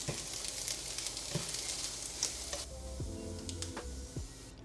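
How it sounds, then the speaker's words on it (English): Tofu frying in a pan until golden, a steady close crackling sizzle with a few sharp pops and utensil clicks, and a low hum entering partway through. "I cook the tofu until it's golden"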